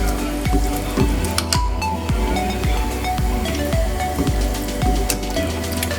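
Food sizzles in a frying pan while a utensil stirs it in a regular scraping rhythm, with steady crackle underneath and no speech.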